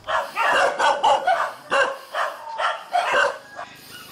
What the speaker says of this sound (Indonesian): diiringi suara lolongan anjing yang seolah memecah keheningan